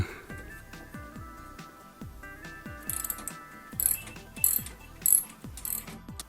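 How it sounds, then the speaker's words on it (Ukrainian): A wrench ratchets as nuts are unscrewed on a washing machine being repaired for a bouncing, drum-knocking fault, giving repeated clicking ratchet strokes that come close and loud, with several sharper bursts toward the end. "Беремо ключ та відкручуємо одну гайку та другу."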